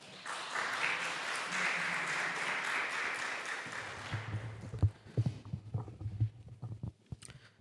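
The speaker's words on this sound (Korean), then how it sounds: "우리 박수로 한번 모시겠습니다" A church congregation in Dortmund applauds to welcome the preacher at Sunday worship, a steady burst of clapping that fades out after about four seconds, followed by soft footsteps and low rumbles.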